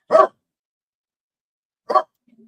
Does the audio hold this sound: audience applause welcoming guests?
no